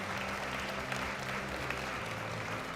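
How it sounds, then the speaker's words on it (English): An audience at a powerlifting championship applauds in a dense, steady wash of clapping. It holds at an even level throughout the short stretch. "Big round of applause for them"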